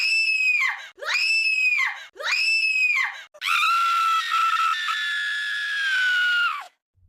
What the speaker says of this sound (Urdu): یہ آواز ایک عورت کے چیخنے کی تھی جو بہت قریب سے آتی ہوئی محسوس ہو رہی تھی۔